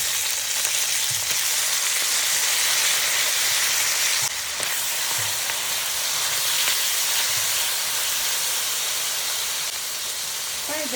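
Mushrooms frying in a pan for mushroom fried rice, alongside small seasoned chicken pieces, a steady close sizzle and hiss with faint stirring scrapes throughout.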